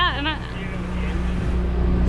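A sailing boat motors up a creek on its engines, a steady low drone with a wash of water noise, and a voice is briefly heard at the start.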